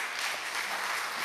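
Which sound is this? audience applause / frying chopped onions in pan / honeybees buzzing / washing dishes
audience applause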